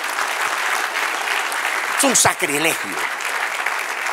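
Church audience applauding steadily throughout, with a voice speaking briefly over the clapping near the middle.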